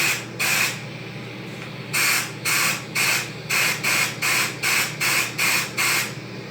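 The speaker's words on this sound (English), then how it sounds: "And compressed air." Compressed air is blasted through the oil gallery of a Triumph TR6 engine block during a rebuild, coming as about a dozen loud, short, hissing bursts in quick succession over a low steady hum.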